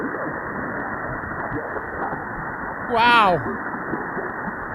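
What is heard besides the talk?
amateur radio voice signal via AO-07 satellite fading away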